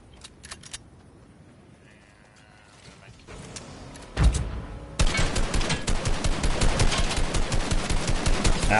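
Gunfire erupts in a Fortnite match, scattered shots and mechanical clicks at first, then a sudden loud burst followed by sustained rapid fire, with players talking over it.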